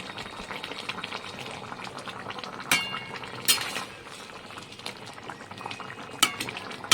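A fish curry of live pond bata fish with potato and pointed gourd bubbles steadily in a pot, a soft continuous simmer with a few sharp clinks of a utensil against the pan.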